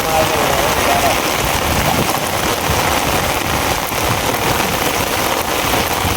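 Heavy monsoon rain pours steadily and loudly, a dense continuous hiss close by, with a faint rumble of distant thunder beneath it.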